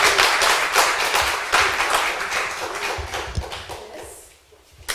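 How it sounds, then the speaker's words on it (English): Conference audience applauding a speaker, a crowd's steady clapping that is fairly loud at first and gradually fades over a few seconds. "please give her a round of applause"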